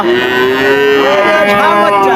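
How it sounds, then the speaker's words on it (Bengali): Cows and calves low repeatedly at a crowded cattle market, a dense chorus of near and distant moos overlapping throughout with no pause. "সারি সারি গরু আপনারা দেখতে পাচ্ছেন"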